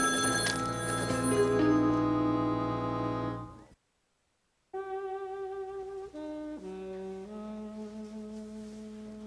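A telephone rings at home: a loud, bright, sustained ringing that cuts off into brief silence, then resumes as a run of shifting melodic ring tones with no talk over it.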